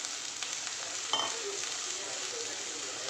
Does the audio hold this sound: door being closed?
no